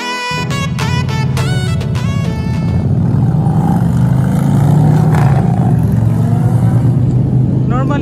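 A car drives past nearby, a loud sustained engine roar and rumble with a vintage car parked close by, heard under people talking throughout.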